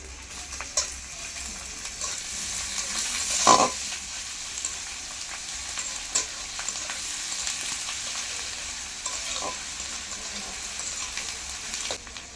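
Onions with crushed garlic and ginger frying in a pan, a steady close sizzle with occasional spoon taps and scrapes, no talking.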